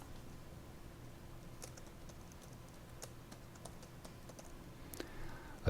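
Soft, quick typing on a computer keyboard as a guest name is entered, a run of light irregular key taps at close range with a slightly busier cluster near the end and no talk.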